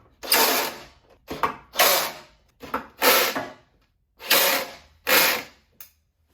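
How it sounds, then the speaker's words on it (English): A ratchet wrench tightening bolts while assembling a ProForm Premier 1300 treadmill, seven close, loud bursts of rapid clicking separated by short pauses, with no talking. "So let's go ahead and tighten those down."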